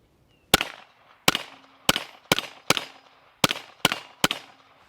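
A 9mm pistol-caliber carbine rifle fired at an indoor range: seven sharp, loud shots in an uneven rhythm, each cracking hard and ringing briefly off the walls before the next.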